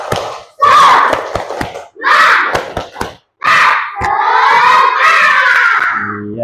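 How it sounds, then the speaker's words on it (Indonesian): Schoolchildren in a classroom chant in unison while clapping a rhythmic pattern, sharp claps cutting between loud shouted phrases, ending in a sustained cheer from the whole group. "Tepuk semangat."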